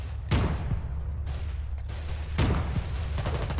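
Gunfire from a sniper in the Foxhole war video game: two sharp, distant-sounding shot cracks about two seconds apart, each with a short rumbling tail over steady low battlefield ambience.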